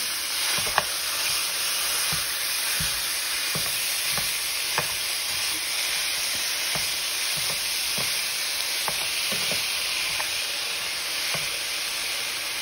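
Ground meat frying in a pan for air fryer lasagna, broken apart with a meat smasher: a steady close sizzle runs throughout, punctuated by irregular scraping and tapping knocks of the tool against the pan.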